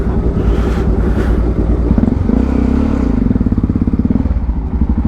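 A motorbike engine close by revs hard and holds a loud, throbbing roar, its pitch climbing midway and then pulsing steadily, with no other sounds over it.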